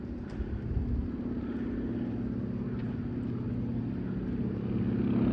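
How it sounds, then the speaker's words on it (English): A seaplane approaches over downtown Vancouver as a steady, low engine drone that gradually swells louder amid the general hum of the city, with no talking. "seaplane incoming."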